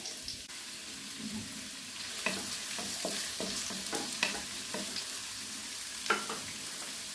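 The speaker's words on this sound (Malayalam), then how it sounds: "എണ്ണ ചൂടായിട്ടുണ്ട് അതിലേക്ക് നമുക്ക് ഒരു സവാള ഉള്ളി" Onion frying in hot oil in a pan for a chicken curry, a steady close sizzle broken by repeated sharp scraping stirs of a spoon, with no talking.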